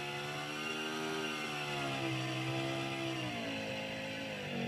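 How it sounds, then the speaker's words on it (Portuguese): In the RealFlight G2 flight simulator, a four-stroke model aircraft engine drones with a steady buzzing tone that rises slightly in pitch midway, heard alone. "Motor quatro tempos, olha aí."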